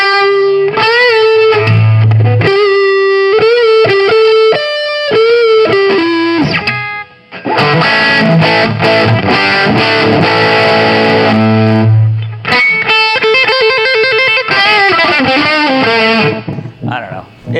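Electric guitar played through a British-style 50W Mojotone amp build with boosted presence and treble, reduced bass and master volume at 6, ringing out loud, distorted riffs and sustained chords, with a slight hum, continuous and alone.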